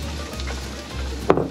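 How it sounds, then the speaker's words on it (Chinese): Fuzzy gourd stir-frying in a hot pan, a soft steady sizzle with a sharper burst of clatter near the end, no voices. "节瓜先把它爆香就对了"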